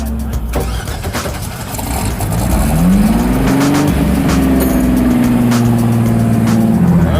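A Rotsun race car engine revs up with a rising whine, then holds a loud, steady roar close by at a 24 Hours of LeMons race, with no talking.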